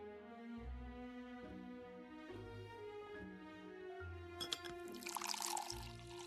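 Water poured in the Dark Tales game, a gentle liquid trickle and splash rising toward the end, close and clear over sustained musical tones.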